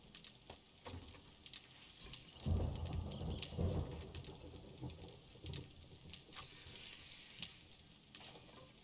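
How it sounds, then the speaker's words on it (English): Steady rain falling in the survival video game 7 Days to Die, a soft continuous patter with a louder surge midway, faint and alone with no talk. "Let's chill here for the rain to pass."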